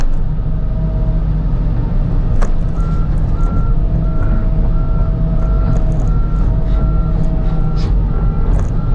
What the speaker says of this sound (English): Trying to grind this mulch up really nice and fine